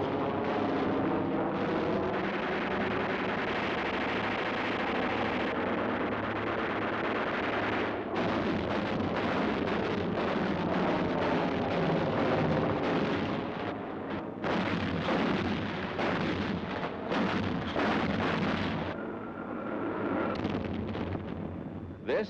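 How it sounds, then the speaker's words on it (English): Anti-aircraft artillery firing in World War II footage, heard as a dense, continuous roar of overlapping blasts and rumbles, loud and close for the whole stretch, with thicker bursts of rapid firing partway through. "This is AAA in action."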